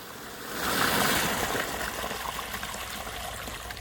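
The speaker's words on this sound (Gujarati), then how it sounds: "પહેલાં મોટરમાંથી થોડુંક આપણે પાણી કાઢી નાખીએ" A farm motor pumps water out to flush debris, giving a steady rushing, trickling flow with a faint engine hum beneath, loud at first then settling to a constant wash.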